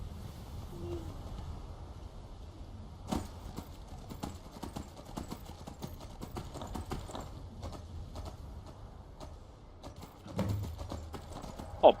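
Horse hooves clip-clopping in Skyrim, a quiet, steady run of hoofbeats throughout with a few louder knocks over a low background rumble.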